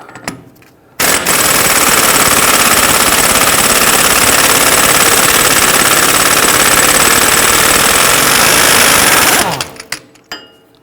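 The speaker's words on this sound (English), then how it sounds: "We're going to use a 32mm deep socket to loosen and remove our axle nut" A loud, continuous rattling burst of an impact tool, lasting about eight seconds, loosens the axle nut with a 32mm deep socket on a 2010-2019 Ford Taurus. The hammering starts and stops abruptly, with quiet before and after.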